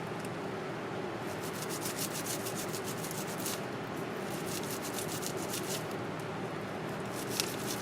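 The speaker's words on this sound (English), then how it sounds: "So you want to make sure and scrub in between." A stiff brush scrubs a mud crab shell clean in continuous rapid back-and-forth strokes, a close, steady, even rasping with no talking.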